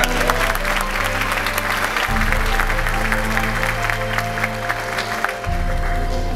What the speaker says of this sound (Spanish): Un aplauso también a...